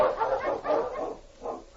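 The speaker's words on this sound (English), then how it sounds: "The Wonder Dog King, swiftest and strongest of Eskimo lead dogs" King, an Eskimo lead dog in a radio drama, barks in a run of four muffled, moderately loud woofs at an even rhythm, heard alone without talk.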